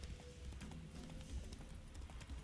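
Geralt's horse Roach clip-clops along in The Witcher 3: Wild Hunt, a faint, even patter of hoofbeats at a walking or trotting pace with no speech.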